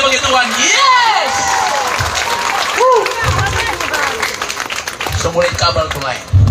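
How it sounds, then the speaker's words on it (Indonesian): A church congregation claps and cheers in praise for a few seconds, a loud crowd burst beneath a preacher's voice that keeps talking over it. "Beri tepuk tangan yang meriah bagi Tuhan"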